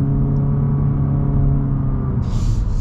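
A 151-horsepower hybrid car accelerates hard in sport mode, its engine holding a steady droning hum with a rising tone that sounds close and loud, and no one speaks.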